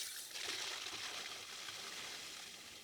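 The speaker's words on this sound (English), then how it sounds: "here's the water going" Water rushing through a freshly charged garden irrigation line makes a faint, continuous gurgling hiss that swells quickly and then holds steady.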